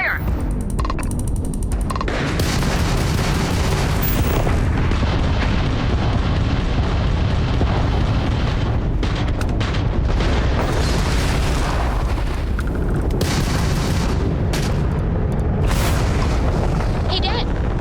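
Gunfire and explosions from the Starfield video game on PC, a dense, loud, continuous barrage of booms and mechanical clatter running throughout, with a voice shouting over the battle.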